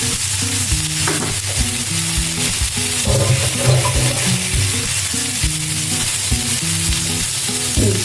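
Prawns sizzling steadily in a pan once the lid is lifted, a loud continuous fry with gentle stirring scrapes and knocks throughout.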